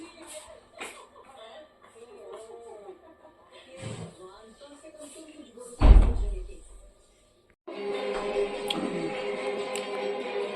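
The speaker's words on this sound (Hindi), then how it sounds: "वो बंद कर दे लोबी दरवाजा" A lobby door slams shut in a home with one loud, sharp thud partway through, amid household chatter, followed by steady running water.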